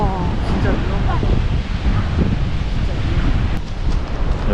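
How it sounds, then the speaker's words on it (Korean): Strong sea waves churn and roar continuously near a coastline, mixed with heavy wind buffeting the microphone, a dense, loud wash with no distinct breaks. "파도 엄청 센데"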